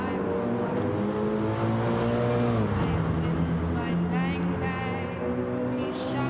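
A Mercedes-style MC GT3 race car engine pulls hard at the Nürburgring, with a loud, close, sustained engine note climbing in pitch, a gearshift drop partway through, then rising again under light road and wind noise.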